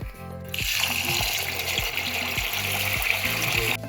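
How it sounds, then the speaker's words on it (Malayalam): Tap water runs steadily into a vessel of split lentils set to soak, a continuous close gushing pour with a brief trickle at the start and end. "ഇനി ഒരു 2 മണിക്കൂർ നമുക്കിത് വെള്ളത്തിലിട്ട് കുതിരാൻ വയ്ക്കാം."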